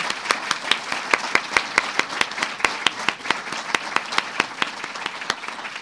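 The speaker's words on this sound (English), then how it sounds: "we want to give another big round of applause to the wonderful speeches the girls gave." Audience applause at a fishing derby gala dinner: a sustained burst of clapping from a room of people, crisp individual claps blending into a steady wash, with no talk on top.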